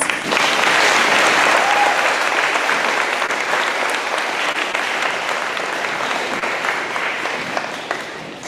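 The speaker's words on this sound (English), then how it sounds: "Students, please join me in giving all of our guests a round of applause." A large audience at a school awards ceremony gives a loud, sustained round of applause that stays dense and even throughout, with a slight crowd murmur underneath.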